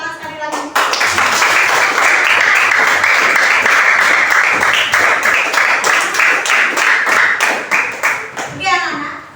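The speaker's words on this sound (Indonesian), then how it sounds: "tepuk tangan sekali lagi" Students in a classroom clap their hands together in a loud, sustained burst of dense applause that thins into scattered individual claps near the end, with a voice faintly mixed in.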